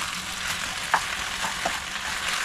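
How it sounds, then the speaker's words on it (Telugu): Macaroni with coconut stirred in a hot pan for a breakfast dish, a soft continuous sizzle with a couple of brief scraping clicks from the spoon, close and fairly quiet, no talking. "ఇప్పుడు దీన్ని మనం మంచిగా మిక్స్ చేసుకోవాలి"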